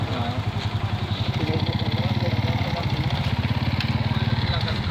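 A motorcycle slips past an overturned egg-laden truck on a roadside in San Jose, Batangas, its engine a steady, close, throbbing putter that runs throughout, with faint voices in the background.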